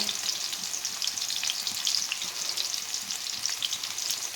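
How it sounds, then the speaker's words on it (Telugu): Whole spices for biryani, bay leaf, shahjeera, cloves and cinnamon, fry in hot oil, giving a steady close hiss and crackling sizzle with no voice heard. "ఇప్పుడు బాగా ఎర్రగా ఫ్రై చేస్తామండి"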